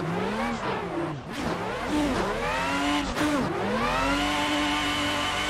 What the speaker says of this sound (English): I love the transmission whines and the diff whining.